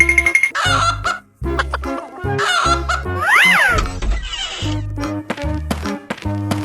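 Cartoonish chicken clucks and squawks play inside a 3D animal sliding game, loud and choppy, mixed with bright game music and effects in rapid bursts.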